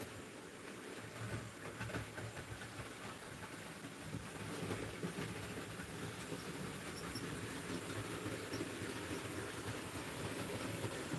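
Model railway GoRail SD60 diesel locomotives running on a layout, with a steady faint rolling rumble and low rattle of wheels on track.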